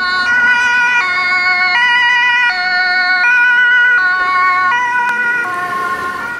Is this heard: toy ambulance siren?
yes